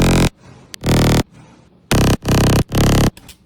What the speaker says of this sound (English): there's a classic RetroVision bass which sounds like it's really gritty